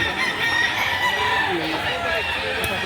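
At an outdoor chicken market, roosters crow and hens cluck amid a dense, noisy flock, the calls overlapping loudly and continuously while people talk nearby.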